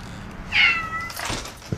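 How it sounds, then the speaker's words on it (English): A single clear cat meow, close and fairly loud, followed by faint rustling and a short soft vocal sound. "Meow, meow, kitty"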